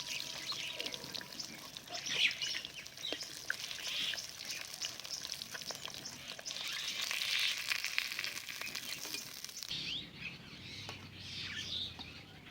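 Fish frying in a pan over a weak stove fire, a continuous crackling sizzle with popping spatters, fairly close, dropping off briefly near the end before resuming softer.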